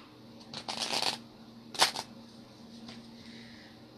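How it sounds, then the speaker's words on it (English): Tarot cards are shuffled close up in two quick riffling bursts, a longer ruffle followed by a shorter snap, over a low steady hum, with no talking. "I'm going to shuffle a different way"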